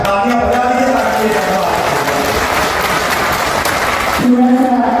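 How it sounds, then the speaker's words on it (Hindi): Sustained crowd applause at a Dasara mushaira poetry gathering in Mysore, loud and continuous for several seconds, with a voice speaking over it at the start and again as it ends. "तालियां बजा दीजिए"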